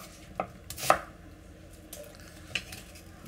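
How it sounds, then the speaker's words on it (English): Raw vegetables tumble into the bottom of a roasting pan being readied for a lamb shoulder, landing as a few scattered soft clunks and clatters at a low level with quiet stretches between. "we're just gonna throw some vegetables in the bottom of the pan"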